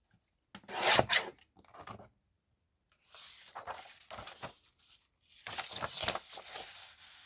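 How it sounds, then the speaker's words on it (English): Paper tags being trimmed down to three inches wide for a stack-and-whack craft project, three separate bursts of rasping, rubbing cuts with quiet gaps between, close and without talk. "So I'm just going to trim off first cut them down to the 3 inches."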